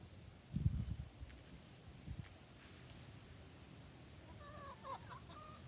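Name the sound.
chickens clucking at a farm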